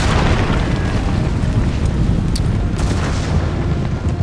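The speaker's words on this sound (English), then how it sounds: "Oh, grenades! Look, grenades! Saw a few grenades getting thrown." Grenade explosions in a battle in Empire Total War, dense rumbling booms and bursts layered into continuous low battle noise, with a few sharper pops above it.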